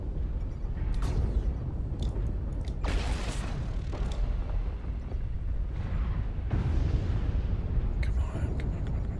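Artillery strike explosions in MechWarrior Online make heavy, continuous rumbling booms with sharper blasts layered on top, loud and dense throughout the clip.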